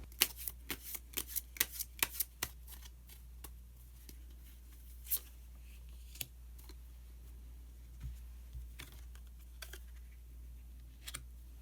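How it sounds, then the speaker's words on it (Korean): Tarot cards are shuffled and drawn up close, with a rapid series of crisp snaps and taps at first that thin out to occasional soft flicks, and no talking. "카드 한 장을 더 뽑고 이야기 계속 나누도록 하겠습니다"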